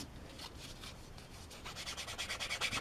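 Sanding sticks rub back and forth on a part of a Tamiya 1/12 scale Yamaha YZR M1 '09 model kit, a close, steady scratchy rasp that becomes a quicker rhythmic stroking toward the end, with no talk.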